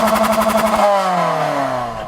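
A 2014 Toyota Corolla Sport with a CVT gives a loud, close engine drone, pulsing at first and then sliding smoothly lower in pitch, with no talk.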